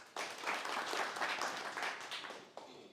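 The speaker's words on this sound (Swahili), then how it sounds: "Tumpige makofi." An audience at a World Press Freedom Day event bursts into applause, a dense burst of many hands clapping that holds steady and then fades after a few seconds.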